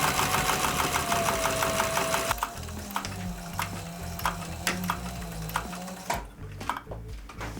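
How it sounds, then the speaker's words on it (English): Sewing machine stitching a leather stirrup bag with a fence and roller edge guide set, running in a steady continuous whir that changes pitch partway through, with sharp clicks scattered over it; close and alone, no talking. "Alright, let's get these sewn up."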